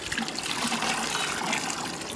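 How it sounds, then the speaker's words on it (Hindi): About five litres of water pours into imli aloo bukhara sharbat, making a close, steady splashing gush that holds evenly for a couple of seconds with no talking. "5 लीटर ये हम इसमें पानी डालते हैं।"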